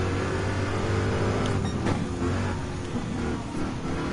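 A racing car engine in Gran Turismo 7 drones steadily and loudly as it accelerates, a continuous rich roar with no pauses and no voices.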